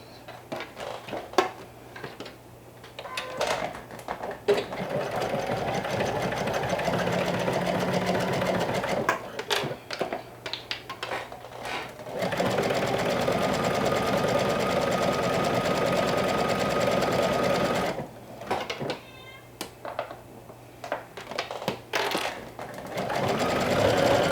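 A home sewing machine runs an overcasting stitch at length 4 on elastic fabric, whirring loudly in long continuous bursts separated by short pauses and clicks, heard close by.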